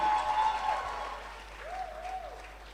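Applause from a crowd at a staff awards ceremony, moderate and steady and slowly fading, with a couple of whistles rising over the clapping.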